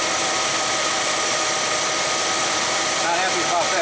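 A 1966 Chevy Biscayne's big block V8 with a Quadrajet carburetor idles with a steady, rough rumble, continuous at close range, with no speech over it.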